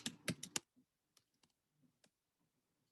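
A short burst of computer keyboard typing, several quick keystrokes close together, then a few scattered isolated clicks in an otherwise quiet room.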